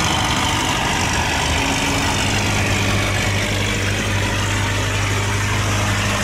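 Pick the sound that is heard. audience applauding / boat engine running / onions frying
boat engine running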